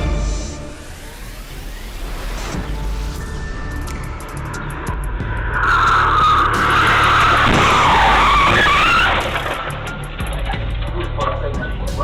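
Tyres screech loudly in a long skid as cars crash after a street race on a Texas highway, preceded by engine and road noise and followed by rumbling.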